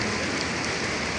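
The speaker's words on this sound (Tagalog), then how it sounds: "malakas ang ulan ngayon mga idol dito sa Pogoso, Santa Cruz, Manila." Heavy rain falling at night in Santa Cruz, Manila, a dense, steady broadband hiss of drops drumming on surfaces, loud and unbroken with no voices.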